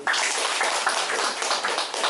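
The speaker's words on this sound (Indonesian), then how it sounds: "Silakan dulu tepuk tangan buat beliau." An audience applauds during an Indonesian motivational training session on neuro-linguistic programming, a dense, steady wash of many hands clapping close by for about two seconds.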